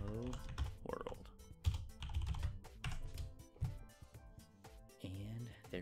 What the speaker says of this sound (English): And we're going to type Hello World.